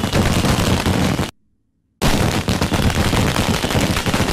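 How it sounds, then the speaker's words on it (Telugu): Firecrackers burst in a rapid, crackling barrage during a comedy film scene. The loud string cuts to near silence for a moment, then resumes just as densely. "టపాకాయలు బాబు వెళ్తున్నాయి."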